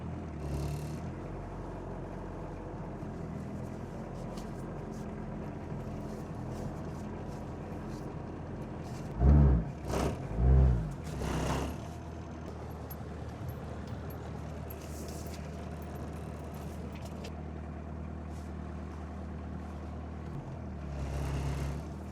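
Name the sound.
Volkswagen Golf Mk1 driving after sitting 12 years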